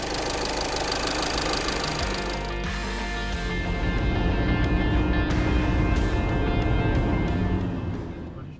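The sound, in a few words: VW/Audi car engine started and idling after intake manifold repair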